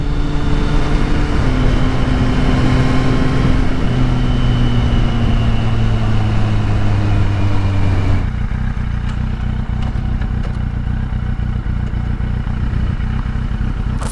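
A Kawasaki Z800 motorcycle engine runs steadily while riding, a continuous low drone with shifting pitch, then a rougher, noisier stretch of road and wind later on; no talking.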